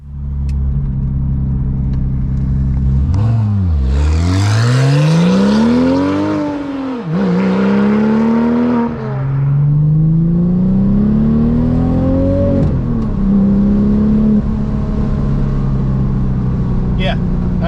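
A straight-piped Porsche 911 Turbo engine revs hard, pitch sweeping up and down through several loud, close pulls with rasping exhaust, then settling to a droning cruise.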